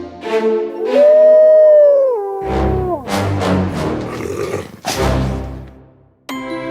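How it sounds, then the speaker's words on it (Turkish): A loud wolf growl sound effect opens with drawn-out, howl-like tones and breaks into rough, snarling bursts, with brief quiet gaps between. "Kurt arkalarından öfkeyle hırlamış."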